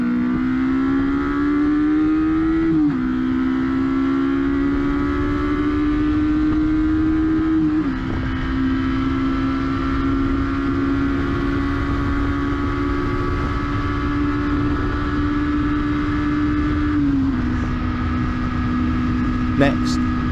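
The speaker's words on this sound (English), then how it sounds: "I will leave a short segment between each bike so you can enjoy the sound uninterrupted" A four-pot 250cc four-stroke motorcycle from the late 1980s, built for the Japanese market, revs steadily at high pitch, its engine note dipping briefly at gear changes and then holding a sustained, loud wail close by.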